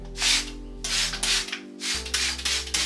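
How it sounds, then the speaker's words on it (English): Several quick bursts of water sprayed onto curly hair from a pump bottle, hissing in short pulses over a low electrical hum. "We are going to spray our hair with some water."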